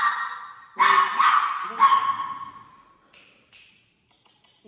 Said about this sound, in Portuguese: Tem um cachorrinho aqui na minha casa, gente, que está perturbando a minha vida